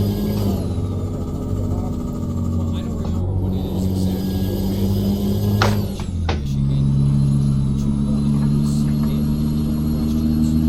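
A Kenworth T800 truck engine in Euro Truck Simulator 2 drones and rumbles steadily, its pitch stepping up as revs climb, loud and continuous with no talk over it.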